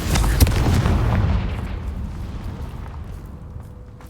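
A Confringo fire spell explodes in Hogwarts Legacy with a loud, booming blast that opens the clip, then a rumbling roar that slowly fades over several seconds.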